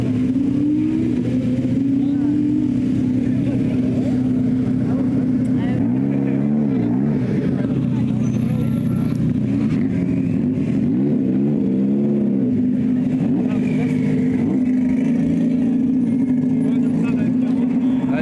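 A Ferrari F40 engine drones loudly and close at a car show, holding a steady throaty note with wavering revs rising and falling, while voices talk over it.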